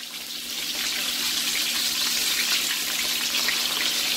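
Chicken fries in a pan, a loud, steady, close sizzle with a dense hiss of spitting oil throughout and no talking.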